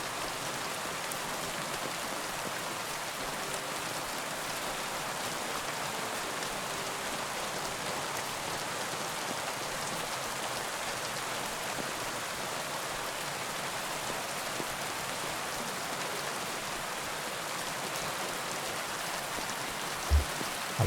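Steady rain falls outside in a dense, even hiss that continues unbroken for about twenty seconds, with a faint knock near the end and no voices.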